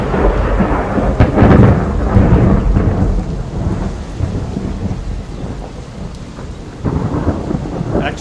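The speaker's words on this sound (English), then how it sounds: "mixed in some of the lightning from Gil Luna's sci-fi sunsets, which is a fantastic sort of weird spacey lightning to give it an unnatural storm" Stormy forest ambience from a fantasy soundpack, with loud rolling thunder rumbles over steady heavy rain and some eerie, spacey-sounding lightning cracks, continuous and close with no voices.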